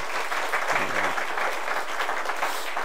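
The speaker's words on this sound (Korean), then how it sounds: "박수 한번 쳐드립시다." Church congregation during a Sunday service breaks into sustained applause of encouragement, an even, continuous patter of many hands filling the room.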